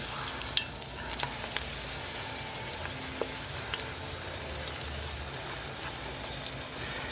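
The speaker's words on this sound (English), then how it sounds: "You see the taco shell's getting a little bit bubbly on top." A taco shell fries in hot oil with a steady, close crackling sizzle and scattered small pops throughout, no voices over it.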